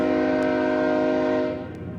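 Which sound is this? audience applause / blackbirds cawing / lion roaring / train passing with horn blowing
train passing with horn blowing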